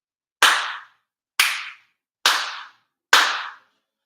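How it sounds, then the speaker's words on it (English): Four sharp ritual hand claps ring out in unison with a head officiant at a Konko year-end ceremony, evenly spaced about a second apart, each a crisp loud smack with a short decay into silence. "4 sincere claps along with the head officiant"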